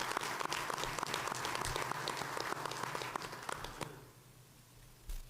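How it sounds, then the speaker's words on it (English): An audience claps at a school board meeting, a moderately loud round of applause that holds for about four seconds and then fades out, ending with a single brief thump. "Could we give them a nice round of applause?"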